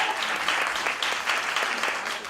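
People at a grief symposium clap for a woman, a steady, close round of many hands applauding without pause for a couple of seconds.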